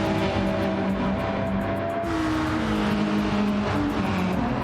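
Subaru and Porsche race cars in FlatOut at Monza, engines roaring steadily and loud throughout, with rising and falling tones as the cars accelerate and shift, no pauses.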